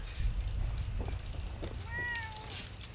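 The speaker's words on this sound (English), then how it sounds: "There's a cat!" A cat in Fallout 4 gives a short, rising-and-falling meow over a dense bed of in-game ambient noise and low rumble, with a few faint clicks and thumps around it.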